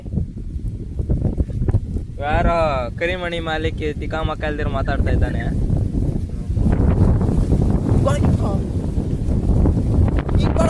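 Strong wind buffets the microphone outdoors in a village, a constant rough rumble under a person talking.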